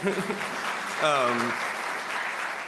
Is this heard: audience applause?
yes